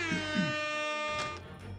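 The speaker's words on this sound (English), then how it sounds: "Unintentional air horn." An air horn blares in one loud, sustained blast, brassy and buzzy, with a faint voice murmuring beneath it toward the end.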